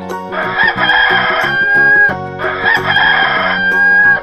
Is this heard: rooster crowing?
yes